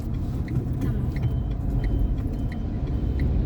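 A driving-school car's engine rumbles steadily as the accelerator is pressed without releasing the clutch, a loud low continuous drone with faint regular ticking above it, no voices.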